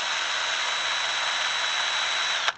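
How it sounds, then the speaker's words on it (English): A power drill fitted with an adapted mixing part churns vineyard spray mixture, giving a loud, steady high-pitched whine that holds constant for over two seconds before cutting off abruptly. "It's basically a drill, and then we have an adapted part that basically"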